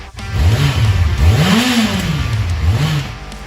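A Yamaha FZ1 motorcycle engine, first or second generation, revs in repeated throttle blips, its pitch rising and falling in arcs, strongest in a long swell mid-clip, loud and close with no talk.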